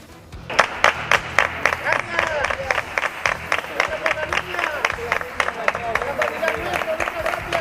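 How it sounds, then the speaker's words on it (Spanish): Neighbours in the Los Rosales neighbourhood of El Palmar applaud the police in the street, with sharp, fairly close hand claps starting abruptly and continuing steadily over a crowd murmur, with voices mixed in. "los vecinos de Los Rosales, en el Palmar, aplauden a la policía"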